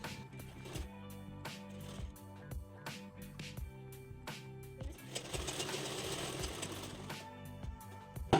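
A sewing machine stitches a blouse, running in steady bursts with short pauses and then a longer continuous run, fairly close and clear with no talk.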